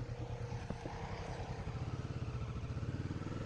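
A 125cc pit bike engine riding off-road in the woods, its steady, pulsing putter close to the microphone with a rhythmic chugging that tightens toward the end, plus a light clatter.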